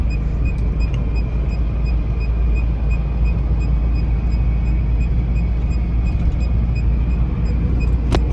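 A car cruises along the Jaipur Expressway, heard from inside as a steady road and engine drone with strong low rumble. It stays constant and close the whole time, with a brief faint click near the end.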